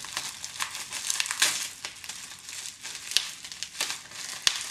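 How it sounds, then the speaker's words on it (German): Close, continuous crinkling and crackling of bubble wrap around a small product being unwrapped, with irregular crisp bursts and rustles and no talking. "alles so in dieser Luftpolsterfolie eingepackt"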